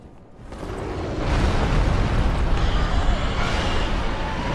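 A video game dragon breathes a long roaring rush of fire that swells after a quiet start and holds loud and steady for several seconds.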